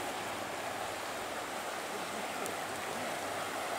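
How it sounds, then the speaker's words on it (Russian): The Razdolnaya river flowing near the village of Pokrovka: a steady, even wash of rushing water, fairly soft and unbroken throughout, with no voices. "Под шум волн, под шум реки."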